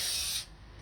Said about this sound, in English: we get some high temperature white grease and just spray